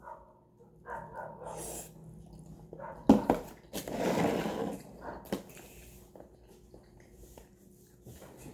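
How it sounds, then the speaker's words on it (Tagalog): A dog barks several times in short, sharp bursts with quiet gaps between them. A louder burst stands out midway, over a quiet room. "Ang ingay naman ng ano, aso?"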